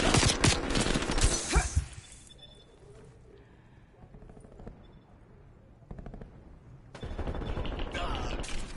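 Rapid automatic gunfire from Call of Duty Cold War comes in loud, dense bursts, then drops to quieter in-game sounds before another sustained burst of shooting.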